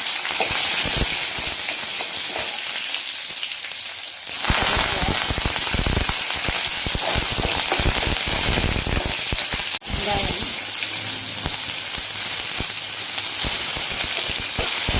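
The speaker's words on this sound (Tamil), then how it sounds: "எண்ணெய் ஊற்றிருக்கேன். இப்போ இஞ்சி பூண்டு போட்டுக்கலாம்." Ginger and garlic fry in hot oil for a mushroom gravy, a loud continuous sizzle and crackle that grows stronger partway through, with a brief dip before the hiss resumes.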